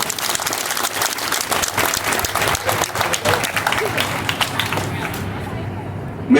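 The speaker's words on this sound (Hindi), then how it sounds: "चलो ताली बजाओ अपने लिए।" A classroom audience of students preparing for civil service exams bursts into steady, dense applause that fills the room for several seconds before fading out abruptly at the end.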